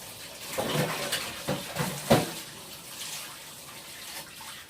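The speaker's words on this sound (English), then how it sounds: "So let me wash my hands." Running water and light clatter at a kitchen sink while hands are washed, with a soft splashing stream, a few clinks of dishes and a sharp knock midway, heard close at a moderate level.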